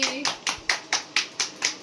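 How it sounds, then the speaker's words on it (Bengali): Eight crisp hand claps in a steady, even rhythm, close and fairly loud, with a voice briefly at the start. "50 টাকা পেয়েছে, হাততালি।"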